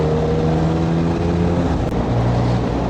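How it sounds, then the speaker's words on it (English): A motorcycle engine revs steadily up close and pulls away in first gear on a UK road, its droning note running throughout and shifting slightly as it moves off. "Clutch, rev, first gear,"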